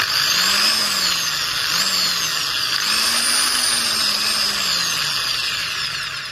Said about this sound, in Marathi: मी दोन्ही हातांनी ड्रिलिंग मशीन पकडते